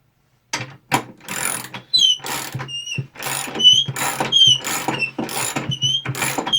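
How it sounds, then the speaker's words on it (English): A 9/16 socket wrench ratcheting while adjusting a DIY leveling foot on a table, with rapid close clicking bursts repeating in several strokes, loud and alone with no talk. "I'm going to take a 9/16 socket wrench"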